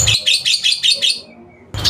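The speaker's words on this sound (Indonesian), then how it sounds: "Burung udah gacor banget teman-teman Mas ya." A red siskin finch gives a quick, bright run of about six chirps close up, then falls silent for a moment before another burst of chirping breaks in.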